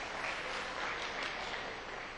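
Audience at a mushaira applauding, a dense, steady wash of many hands clapping at once, heard from a distance and fairly subdued throughout.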